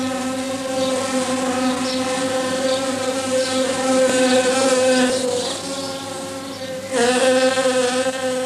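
Drone bees and honeybees buzz steadily around flowering ivy, a loud close harmonic drone that swells and shifts in pitch as insects move near, continuous throughout.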